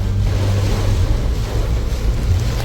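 Steady strong wind roars and buffets against the microphone outdoors in Ernakulam, a continuous broadband rush with heavy low rumble and no break.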